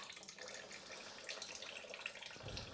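Engine oil drains from a 2012 Ford Focus 1.0 petrol during an oil change, a faint, steady trickling pour into a catch container.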